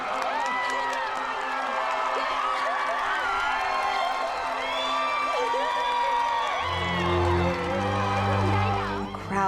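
A large outdoor crowd cheers and whoops loudly at a house reveal for a family, with continuous shouting, voices and excited calls blending into a sustained roar.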